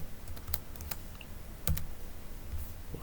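A smartphone keyboard is tapped in quiet, sparse, soft clicks spread irregularly over a few seconds against a faint background hush, with no voices.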